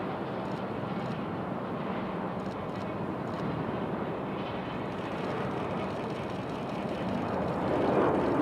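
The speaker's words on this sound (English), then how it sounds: "AeroMexico departing." An AeroMexico airliner departs Raleigh-Durham airport with a steady, loud jet engine roar that fills the scene and swells slightly toward the end, with no voices over it.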